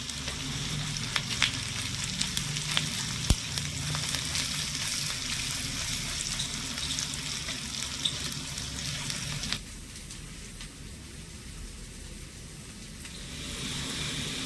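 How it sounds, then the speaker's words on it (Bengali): Onions fry in a pan with turmeric and salt, a steady close sizzle with occasional stirring clicks, dropping to a quieter crackle partway through before picking up again. "পেঁয়াজটা নেড়ে চেড়ে একটু ভেজে নিতে হবে, একটু লাল করে।"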